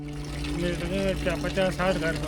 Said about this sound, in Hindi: पानी आप चेक कर लीजिए, माशाल्लाह से भरपूर पानी आ रहा है।